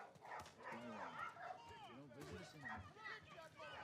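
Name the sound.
dog barking in the video game The Last of Us Part 1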